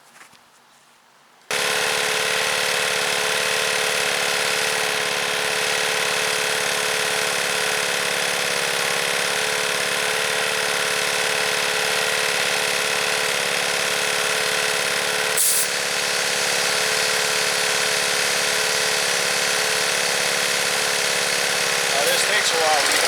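An air hose inflates a large rear tractor tire on a Case IH 7120, a loud steady hiss that starts abruptly and holds without pause, with one brief bump partway through.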